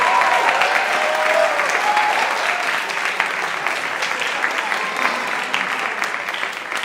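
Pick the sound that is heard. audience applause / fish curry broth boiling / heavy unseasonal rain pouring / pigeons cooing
audience applause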